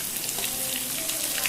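Onions and tomatoes sautéing in a pan, a soft continuous sizzle and crackle, fairly faint and brief, with no talking over it.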